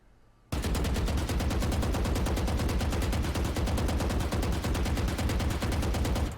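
Sustained automatic gunfire spraying at a target in Valorant, a rapid, evenly spaced stream of loud shots that starts abruptly after a brief quiet moment and runs continuously for about six seconds.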